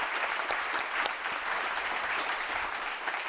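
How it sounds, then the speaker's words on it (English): Applause from the audience at the closing of the Sky Tech Summit 2022, a dense, steady round of clapping that holds its level for a few seconds with no voices over it. "Big round of applause again for Fraser and Prasanna."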